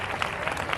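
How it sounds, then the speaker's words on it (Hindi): An audience claps loudly and steadily for children at a Christmas program held by a pastors' fellowship, a dense, even patter of hands with no break across the short burst. "और एक बार जोरदार ताली बजाइए"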